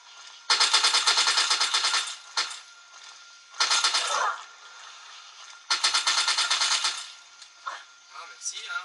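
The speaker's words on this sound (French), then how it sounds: "j'ai fusil d'assaut, je vais essayer de l'avoir comme ça, la mitraillette" Assault rifle fire in Fallout 3, loud rapid automatic bursts in three long strings with short pauses between them, followed by fainter clinks and splashing.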